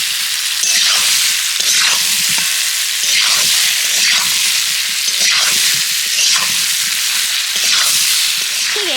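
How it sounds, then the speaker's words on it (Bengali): Pieces of raw green mango fry in hot oil with spices for pickle, a loud steady sizzle broken by regular scraping strokes of a spatula stirring the pan. "আমগুলোকেও কিন্তু ভালো করে নেড়ে চেড়ে একটু ভাজা ভাজা করে নিতে হবে"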